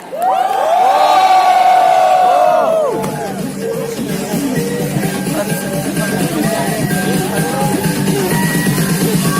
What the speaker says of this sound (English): Let's give them one big final cheer.